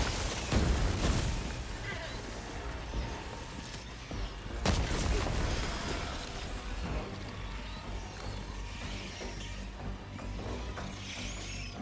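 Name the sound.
grenade exploding in the video game Helldivers 2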